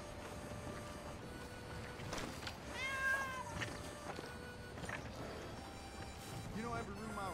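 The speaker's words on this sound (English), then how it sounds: "Damn cat." A cat in the Red Dead Redemption 2 video game gives a few short meows amid quiet ambient game sounds, with a voice speaking briefly around them.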